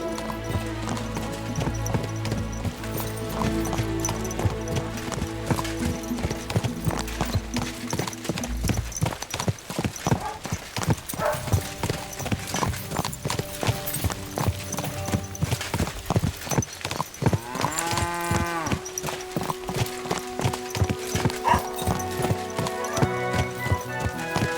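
Horse hooves clip-clop steadily on the ground during riding in Kingdom Come: Deliverance II, a continuous close rhythm of hoofbeats with a brief horse snort or whinny partway through.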